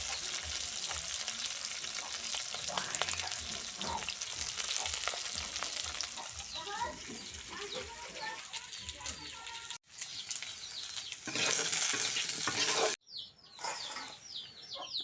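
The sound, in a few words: frying stinging catfish (shing fish) and potatoes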